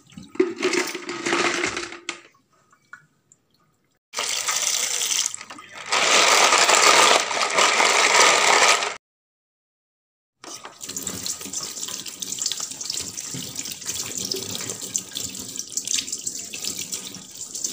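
Money plant leaves are rinsed under a running tap into a sink, with several bursts of splashing water separated by short pauses and a longer steady trickle at the end.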